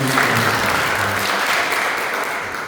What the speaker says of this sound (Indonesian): kita berikan pujian dan tepuk tangan untuk teman-teman dari